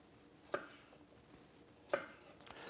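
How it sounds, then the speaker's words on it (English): A knife cuts the ends off a root that resembles ginger, giving two sharp separate chops on a board against quiet background noise. "So with this, I just cut the ends off it."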